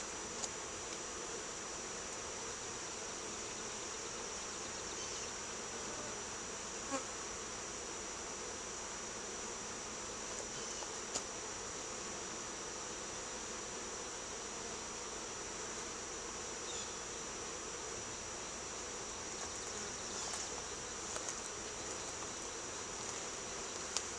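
Honeybees from a newly installed swarm buzz and fan their wings in a steady, continuous hum that stays even and moderately close throughout, with no talk.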